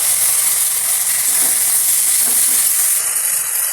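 Cumin, ginger and coriander paste sizzles loudly in a hot pan for a chicken curry, a steady dense hiss with faint stirring scrapes underneath and no talk.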